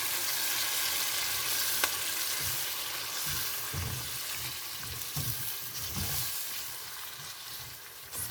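An onion and garlic blend fries with meat and bacon in a pan for African spaghetti sauce. A close, steady sizzle runs throughout, broken by soft stirring scrapes.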